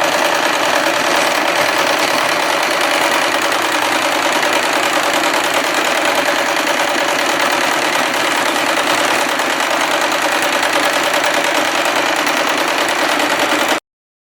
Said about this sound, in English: So I've set it to decorative stitch